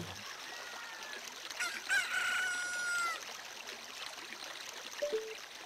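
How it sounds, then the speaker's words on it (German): A rooster crows once at dawn in the video game Zelda: Ocarina of Time, a fairly faint, drawn-out call over soft flowing-water ambience, followed by a short chirp. "Ich glaube, wenn der Hahn kräht, kannst du wieder durch."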